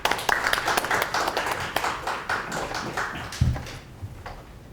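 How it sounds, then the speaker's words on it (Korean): An audience at a forum on North Korea's party rules claps to welcome the first presenter, a steady round of scattered hand claps that thins out and fades after about four seconds. "큰 박수로 환영해 주시기 바랍니다"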